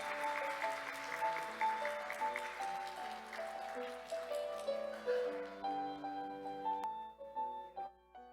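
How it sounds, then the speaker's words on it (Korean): Congregation applauding to congratulate during a church service, clapping bursts over sustained organ or keyboard chords that carry on as the applause fades. "다시 한번 축하의 박수 해주시겠습니다"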